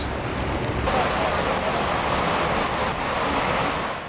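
Niagara Falls plunges 180 feet in a dense, unbroken roar of falling water heard up close, loud and constant across the whole stretch with a hint of wind.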